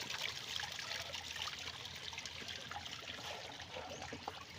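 Steady water trickling and splashing from a pond aerator outdoors, a continuous close babble with fine dribbling texture and no voices.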